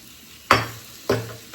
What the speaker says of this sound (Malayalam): ഞാൻ ആ ക്യാപ്സിക്കം കൂടെ ഇട്ടിട്ട് കൊടുക്കുവാണേ